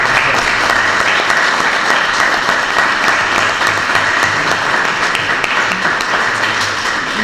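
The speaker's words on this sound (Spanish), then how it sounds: "Así que un fuerte aplauso para Antonio y enhorabuena." Steady, dense audience applause fills a hall in Mazarrón at a book presentation about a local football club, loud and unbroken for the whole stretch with no talking over it.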